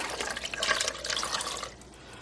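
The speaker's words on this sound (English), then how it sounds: "we're adding the 2 cups of water in here" Water pours steadily into a blender of bean mixture for vegan hot dogs for a couple of seconds, splashing and gurgling up close before trailing off.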